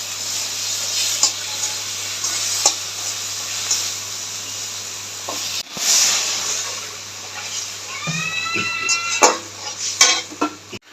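Chopped tomatoes hit hot oil in a pan for a pomfret curry, giving a steady hiss and sizzle with occasional stirring clinks and scrapes of a spoon against the pan near the end.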